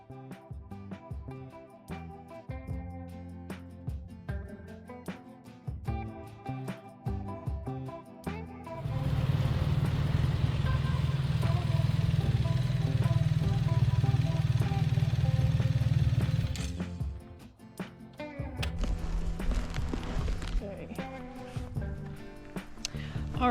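A BMW R1300 GS Adventure motorcycle is ridden out of a city in Gran Canaria, its engine rising to a sustained louder drone mid-clip between quieter stretches, with some background clatter.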